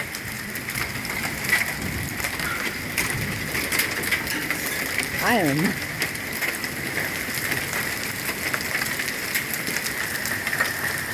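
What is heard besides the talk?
pea-size hail falling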